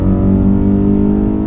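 A car engine roars at high revs at over 300 km/h, a steady loud drone with a low, buzzing rumble that holds without letting up.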